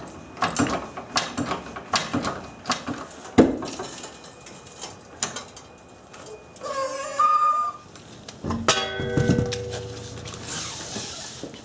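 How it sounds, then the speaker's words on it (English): A car being raised on a jack from the front crossmember at home before strut installation, with rapid metallic ratcheting clicks, scattered clanks and a brief creaking squeal near the end, no talking. "Now I'll be jacking up the vehicle from the front crossmember, which is right there"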